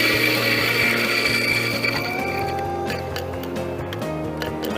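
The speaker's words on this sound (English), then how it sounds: "she's freezing the coffee prior to grinding and then freezing it in" A coffee grinder grinding beans frozen with liquid nitrogen at a barista competition, giving a steady mechanical whir with a fast rattling, ratchet-like texture. It runs continuously and close up, and its pitch shifts slightly as it goes.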